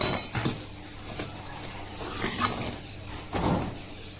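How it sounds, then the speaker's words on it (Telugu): Ragi flour, rice flour, semolina, cumin and salt being stirred together in a bowl, with repeated scraping and clinking of a utensil against the dish. "ఇదంతా బాగా కలిసేటట్టు ముందు ఈ పిండి అంతా బాగా కలుపుకోవాలి"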